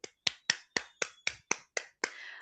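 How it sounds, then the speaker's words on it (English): Nine sharp, evenly spaced claps at a steady quick beat at a Toastmasters club meeting, close and crisp, with a longer ragged burst at the end and no talking. "I want you to huge clap for our second speaker."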